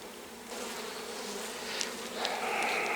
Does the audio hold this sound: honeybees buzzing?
yes